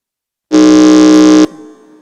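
A single loud, flat electronic contestant buzzer at a school quiz competition blares for about a second, then cuts off into a fading ring.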